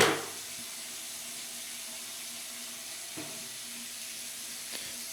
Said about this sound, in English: try submerging it completely in water